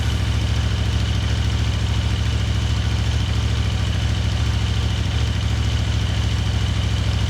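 A CF Moto 800 MT-X motorcycle engine idles close by, with a steady, even low throb and a fast, regular pulsing beat.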